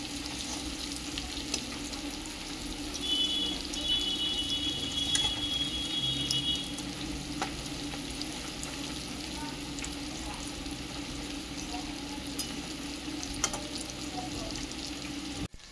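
Mung dal puli pitha sizzles in frying oil as a steady, quiet hiss with occasional faint clicks and scrapes, and no voices.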